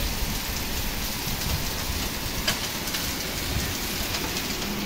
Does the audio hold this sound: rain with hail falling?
yes